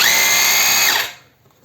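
A Heimerdinger LB169 cordless 3.2 J rotary hammer runs in hammer-only mode with a loud, close, steady high whine, then spins down and stops, leaving near silence.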